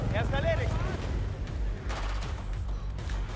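Gunfire in the video game Battlefield 4 during a naval battle, a few heavy booming shots and rumbling impacts, with game radio voices speaking over the first part.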